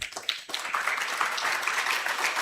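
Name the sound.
audience applause at a leadership summit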